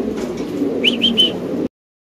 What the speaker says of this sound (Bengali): ওইটার ডাক দেখেন আলামত একদম সবগুলো স্প্যানিশ কবুতর ভাই